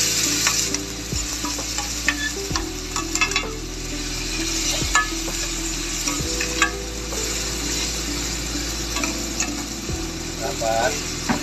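Tomatoes fry in a pan for salmon sinigang, with a steady sizzle and repeated scraping stirs of a spatula every second or two, close and loud with no talk.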